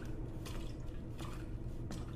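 Water drips steadily in Resident Evil 2, a few soft, distinct drops landing at roughly regular intervals over a low rumbling ambient background, fairly quiet and close.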